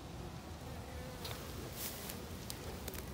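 Honeybees buzz in front of their hives on a cool, cloudy October day, a soft steady drone of several insects close by with occasional louder passes near the microphone.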